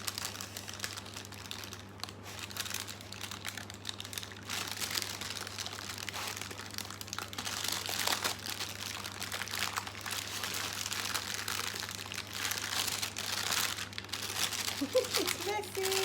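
Baking paper crinkles and rustles continuously as a cherry ripe choc crackle mixture is rolled into a log, a close, soft, scratchy texture that swells in the middle, with faint speech in places.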